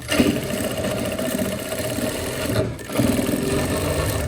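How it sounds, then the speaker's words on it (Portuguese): A sewing machine topstitches the elastic waistband of a lace skirt, its motor running in a steady, continuous whir close by, with a brief dip in the stitching just before the end. "Vou usar um pé dessa máquina como referência para o pesponto."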